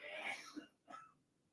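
A short, quiet sneeze-like burst followed by a second softer expulsion of breath, close by with no talking.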